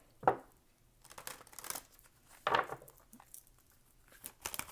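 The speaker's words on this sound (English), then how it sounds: "Okay, we're going to have one more shuffle." Tarot cards are handled and shuffled in short papery bursts, with a couple of sharper riffles separated by quiet pauses.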